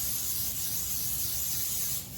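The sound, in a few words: flour-based baking spray sprayed onto baking sheet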